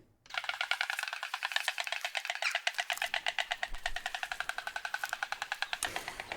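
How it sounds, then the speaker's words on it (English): Rapid wooden clattering of storks bill-rattling at the nest, a continuous loud rattle that quickens and carries on for several seconds. "this is the sound of two proud white stork parents greeting each other at their nest"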